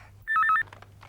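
A telephone bell rings in one short electronic trill burst, close and clear, in a Hindi TV drama scene.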